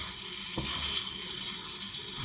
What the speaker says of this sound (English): So fry the chicken till it turns white.